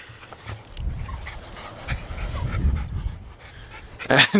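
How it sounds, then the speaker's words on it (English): Dogs panting and snuffling close by, with scuffling movement and rustling as they run around; the breathing comes in quick, uneven bursts. "the dogs are just having a bit of a run"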